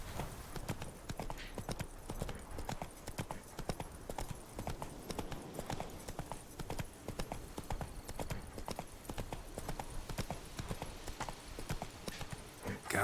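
Roach the horse galloping in a video game, a rapid, steady clip-clop of hooves running throughout at moderate distance, fairly quiet, with a faint snort or whinny at times.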